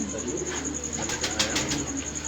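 Pigeons cooing at a rooftop loft, a soft continuous murmur of low coos with a few brighter bursts near the middle, close by and steady with no talking.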